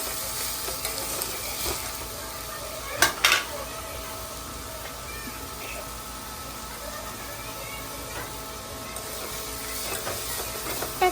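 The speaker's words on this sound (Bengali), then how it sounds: "টমেটো কুচিটাও দিয়ে দিচ্ছি লঙ্কাগুলো দিয়ে এবার এটাকে হলুদ লবণ দিয়ে যতক্ষণ না কালার আসছে লাল লাল ততক্ষণ ভাজবো" Chopped tomato and chillies fry with turmeric and salt for an egg malai curry, giving a continuous sizzling hiss with a couple of sharp utensil clanks against the pan.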